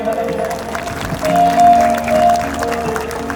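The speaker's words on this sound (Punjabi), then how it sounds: "ਯਾਰੋ ਮਾਰਿਓ ਤਾੜੀ ਮਾਰੀ ਜੀ ਫਿਰ" Audience clapping at the Jandiala village fair, a steady wash of applause that rises and falls under live Punjabi singing with sustained musical tones throughout.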